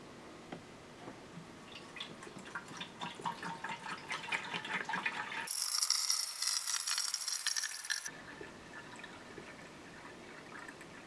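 Apple cider vinegar pours steadily into a hollow metal tank with a bright, splashing rush that builds for a few seconds, amid dripping and trickling water sounds.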